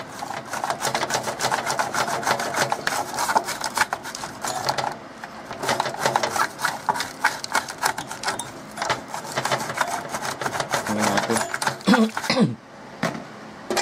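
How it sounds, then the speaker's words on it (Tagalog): A toothbrush scrubs a computer RAM stick in steady, rapid rasping strokes that run loud and close, with a brief pause near the middle and a short break near the end. "Kukuskusin nyo lang yan. Tapos, yung toothbrush,"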